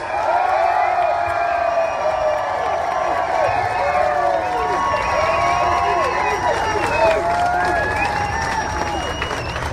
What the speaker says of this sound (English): Let's hear it for the Portland police.